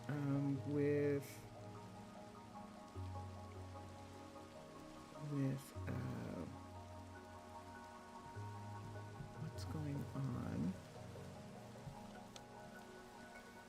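Steady rainfall pattering in Minecraft with the Minecolonies mod, a continuous soft hiss under background music and brief talk.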